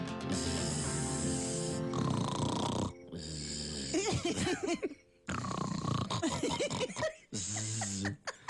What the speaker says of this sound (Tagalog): hilik mo parang kulog